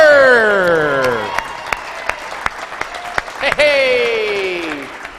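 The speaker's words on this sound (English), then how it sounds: "Can you please give a round of applause for Al Carter?" A studio audience on a local television talk show applauds a guest's entrance, with steady clapping and a few whoops under a loud sliding musical sting that plays over it twice.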